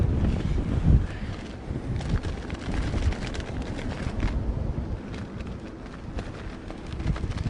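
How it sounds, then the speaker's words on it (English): Gusty storm wind roars into the microphone during an emergency landing, a continuous loud rumble with buffeting surges and no voices. "You see that gust of wind just hit him."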